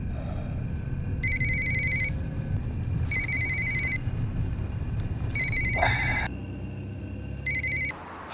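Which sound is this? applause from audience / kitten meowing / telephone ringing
telephone ringing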